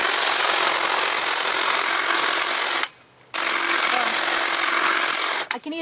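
A garden cutting tool trimming flowers outdoors, producing a steady, close, broadband rasping snip that stops briefly midway and resumes, with a voice talking over it.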